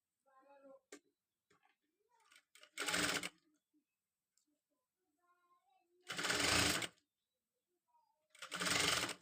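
A sewing machine stitches a Katori blouse front piece from the neckline in three loud, steady bursts of about a second each, separated by quieter gaps where someone talks softly.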